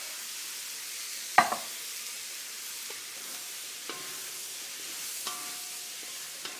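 Pork and mushrooms stir-frying in oil in a cast iron pan, a soft steady sizzle broken by a sharp clatter early on and several lighter taps of a utensil against the pan.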